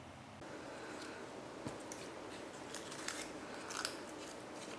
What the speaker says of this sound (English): You can actually hear that the paper has changed and has become more crinkly